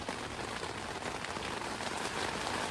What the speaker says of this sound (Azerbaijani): Yağış çox pis yağır. Bir dənə səsini eşidin.